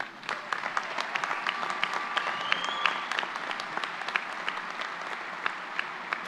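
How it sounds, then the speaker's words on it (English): Graduation audience at Denison University's Class of 2022 commencement applauds the students, a sustained, even round of clapping from a large crowd with a few sharp claps and faint cheers standing out. "Can we give them a round of applause?"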